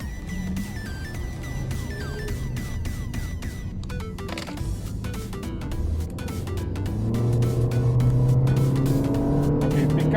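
Toyota Yaris G driving through a corner. A steady engine hum sits under road and cabin noise and grows louder and deeper toward the end as the car accelerates out. No one speaks over it.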